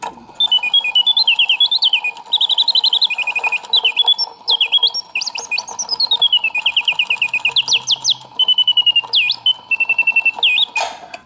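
A vintage 1950s Karl Griesbaum singing bird box warbles a bright mechanical birdsong of rapid chirps and sliding trills in repeated bursts over a steady bellows-like whir, close and clear.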